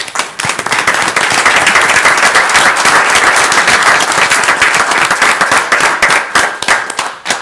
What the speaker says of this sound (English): please stand up and accept a round of applause